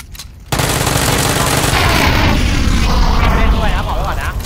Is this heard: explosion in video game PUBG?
yes